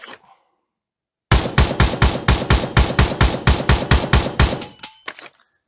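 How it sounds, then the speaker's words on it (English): Modern AK-47-style rifle in the Pavlov Shack VR game firing a rapid, even string of about sixteen loud single shots, close and sharp, followed by a few scattered clicks. "So let's go to single fire."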